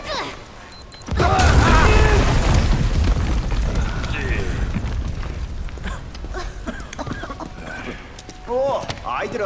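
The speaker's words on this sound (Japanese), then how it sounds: "爆発！" A sudden loud booming bomb explosion in Final Fantasy VII Remake erupts after a brief lead-in, followed by rumbling debris and scattered game-like chirping and voices as it fades.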